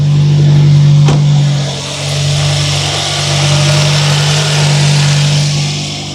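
A truck engine starts and settles into a loud, steady idle close by, a low rumble holding throughout with a sharp click near the beginning.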